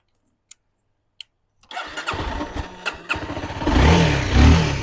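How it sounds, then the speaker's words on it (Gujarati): A 2015 motorcycle starts on its electric self-start: a few faint clicks, then a sudden whir that catches into a loud, close engine and settles to a steady, rumbling idle. "ગાડી એક સેલ્ફ જ ચાલુ થઈ જાય છે, ચાલુ થવામાં નો પ્રોબ્લેમ"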